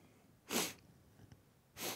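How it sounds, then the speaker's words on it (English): Two loud, sharp sneezes from one person, close up, about a second apart and separated by near-silence with a faint sniff between them. "I thought I was going to sneeze again"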